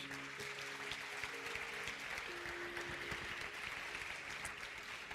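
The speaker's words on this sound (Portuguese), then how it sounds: "Você pode aplaudir ao Senhor por isso?" Sustained applause from a church congregation, a dense steady wash of clapping that continues throughout at an even level.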